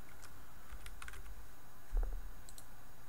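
Keys tapped on a computer keyboard to write a message during a live weather show, heard as a few scattered, soft, quick clicks with a slightly louder burst near the end, fairly close and without talk.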